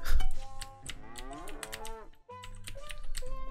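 A cow in the Roblox game Zoo Tycoon moos repeatedly, several drawn-out lowing calls close and clear, with light keyboard typing clicks in the background.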